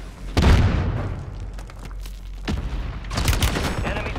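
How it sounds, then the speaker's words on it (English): Mortar strike explosions in a Call of Duty video game: heavy booming blasts with rumbling low end, a big impact early, then further distant thuds and crackling bursts, loud and layered. "Mortar strike on the way."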